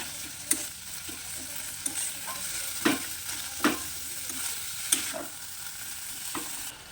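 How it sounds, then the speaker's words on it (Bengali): Boiled banana flower is stirred in a hot pan, a quiet sizzle under a series of sharp spoon scrapes and taps spaced irregularly about a second apart. "এটাকে ভালো করে নাড়াচাড়া করে কিন্তু মিশিয়ে নেব"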